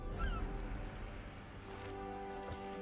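Chickens clucking in the Sea of Thieves video game: a few short, honking squawks early on over a steady tonal background hum, with faint scattered calls after.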